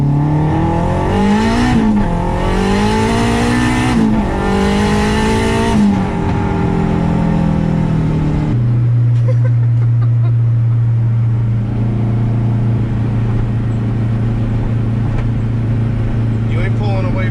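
A 500-horsepower turbocharged K24 engine drives a car hard on a public street, rising in pitch through the gears with a sustained loud drone, then settling into a deep steady roar. Voices talk over the engine.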